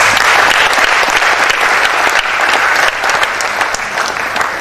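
An audience applauds at the closing ceremony of a college of medicine scientific conference, a dense, sustained wash of clapping from many hands that eases slightly toward the end.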